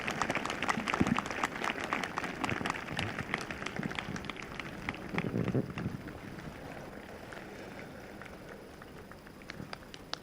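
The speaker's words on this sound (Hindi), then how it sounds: "जोरदार तालियों के साथ धन्यवाद दें" A congregation at a Sunday evening church meeting claps together, a loose rattling patter of hands that is strongest at first and thins out toward the end.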